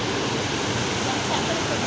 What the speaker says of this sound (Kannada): ವಾಟರ್ ಸೌಂಡ್ ಸಕ್ಕತ್ತಾಗಿದೆ ನೋಡಿ